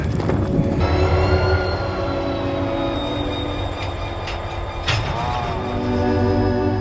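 A train bound for Bogam runs along the Gyeongjeon line, a rural route that once hauled coal: a loud, steady rolling rumble close by, with metallic wheel squeals and tonal whines rising over it.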